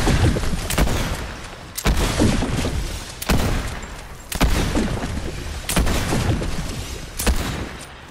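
Bursts of rapid gunfire in Fortnite repeat about every second and a half, each sharp crack trailing into rumbling echoes, loud and close with no speech.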